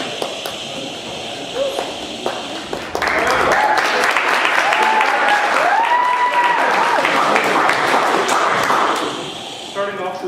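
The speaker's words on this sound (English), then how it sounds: "Starting off to applause already." Audience applause at a student association executive elections forum, a dense, steady burst of clapping starting about three seconds in and carrying near-constant to the end, with a voice and whoops rising over it.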